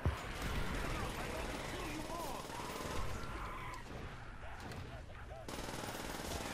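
Rapid gunfire bursts from a custom zombies map in a first-person shooter, Haus Der Untoten, crackling steadily through the clip with dense game effects and music around it.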